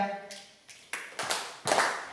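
A group of teachers in an indoor school session claps a handful of separate, spaced-out beats that ring briefly in the room. The claps are fairly quiet, with a voice heard at the start.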